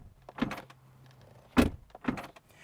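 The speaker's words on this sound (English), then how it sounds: "And then door slam." Doors of a 2023 BMW iX SUV closing, three separate thuds spaced across a few seconds, fairly close, with a slightly tinny character and no voices.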